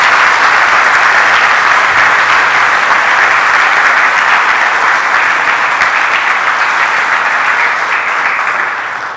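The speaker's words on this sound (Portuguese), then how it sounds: "Uma salva de palmas já para a Nilce," Sustained applause from an audience honoring Nilce for her life story, a dense, loud wash of clapping that holds steady for about nine seconds before tapering slightly at the end.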